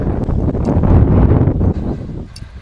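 Wind blows across an open fruit farm, buffeting close to the microphone in uneven gusts, with a low rumbling roar and faint rustling, no talk.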